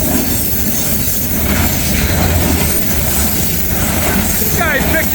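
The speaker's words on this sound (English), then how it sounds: "I've never seen an intermodal train with steel coils on it before." Intermodal freight train carrying steel coils rolling past at close range, a steady loud rumble of wheels and cars throughout, with a brief metallic squeal near the end.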